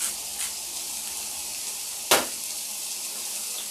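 Seasoned protein, sprinkled with pink salt, sizzles steadily in a hot frying pan, with one brief clink of a utensil partway through.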